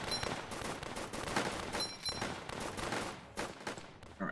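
Rapid machine gun fire in the tower defense game Northend Tower Defense, faint and continuous rattling bursts running steadily throughout.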